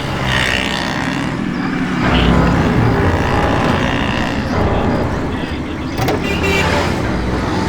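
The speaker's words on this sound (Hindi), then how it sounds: "ये इतनी तेज कार कौन चला रहा है?" A car driving fast in a TV crime-drama scene, with a loud, steady engine roar and road noise that swells slightly and holds for several seconds. Voices are faintly mixed in.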